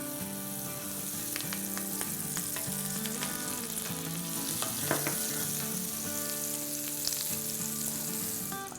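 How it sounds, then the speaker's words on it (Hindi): Butter sizzles steadily in a preheated pan on medium heat, a continuous close frying hiss with faint scraping as it is spread across the surface, no talking. "अब देखें हम बटर जो है वो थोड़ा सा लगाएंगे अपने पैन में हर जगह"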